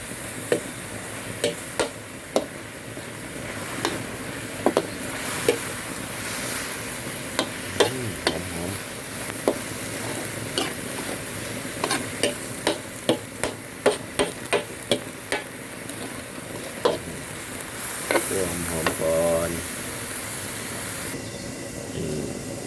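Pork and shallots stir-fried in a pan, a continuous sizzle with frequent sharp scrapes and clacks of a utensil against the pan, close up and fairly loud.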